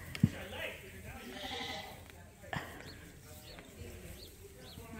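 Sheep bleat a few times on a farm, faint and somewhat distant, under a moderate outdoor background with a couple of sharp knocks and soft bird chirps.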